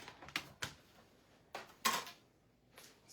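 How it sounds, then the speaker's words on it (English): A paper-crafting embossing machine is cranked on cardstock, giving a handful of sharp, close mechanical clacks and ratchets separated by quiet gaps. "So I'm going to pull in my emboss machine."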